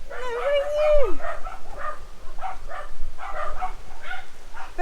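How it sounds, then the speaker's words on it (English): A stray puppy with ticks, found by the road in Spain, gives a rising-then-falling whimper near the start, then short yips and whines under close, excited talk. "Oh my God, there's another puppy"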